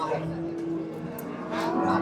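A dairy cow at the Chiroqchi livestock market in Kashkadarya gives a short, low moo close by, while people talk around it against background market noise.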